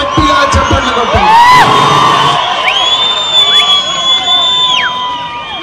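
A large crowd at a BRS party road show led by KTR in Gadwal cheers, whoops and shouts loudly, with whistles and children's yells rising over a continuous roar of voices.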